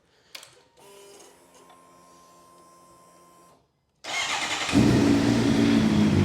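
A Suzuki GSX-R 750 motorcycle with a knocking engine is cranked and fires up after a brief pause, settling into a loud, steady idle up close.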